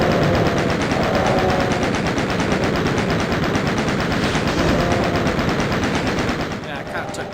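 Chain gun in the video game Doom firing a continuous rapid stream of loud rattling shots for several seconds, easing slightly near the end.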